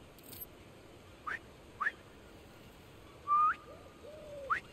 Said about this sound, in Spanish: Intenta silbarles.